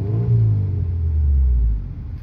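A Subaru engine revs up strongly, a loud close rumble rising and holding for about a second and a half before dropping back toward idle.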